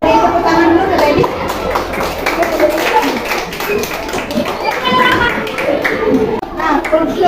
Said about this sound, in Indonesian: Tepuk tangan dulu ke Randy.